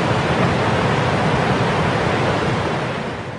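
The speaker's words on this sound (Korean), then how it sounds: "시원한 폭포 소리와 함께 오늘 방송을 진행하고자 합니다. 먼저 폭포 소리를 들어보시겠습니다." Steady roar of Miin waterfall in Samcheok, Gangwon-do, a loud, dense rush of falling water that stays constant throughout and fades slightly at the end, with no voices.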